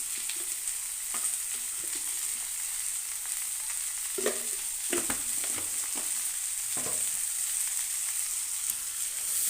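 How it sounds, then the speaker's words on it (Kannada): Bitter gourd frying in tempering oil in a pan for a bitter gourd gojju, with a soft steady sizzle and occasional stirring scrapes and clinks throughout, no talking. "ಒಗ್ಗರಣೆಯಲ್ಲೇ ಇದನ್ನು ಫ್ರೈ ಮಾಡ್ಕೋಬೇಕು."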